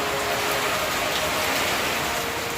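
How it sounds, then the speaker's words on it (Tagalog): Heavy typhoon rain from Uwan pours down in Camarines Sur, a dense, steady hiss of drops drumming on surfaces with no pause. "Ang lakas na po ng ulan dito"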